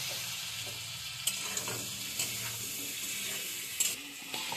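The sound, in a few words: potatoes frying with turmeric and salt, being stirred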